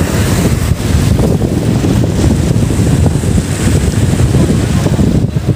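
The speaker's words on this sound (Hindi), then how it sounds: "यह हिंद महासागर, देखिए" Rough Indian Ocean surf and strong wind at Dhanushkodi at the southern tip of India roar continuously, loud and close, with heavy wind buffeting the microphone throughout and no talk.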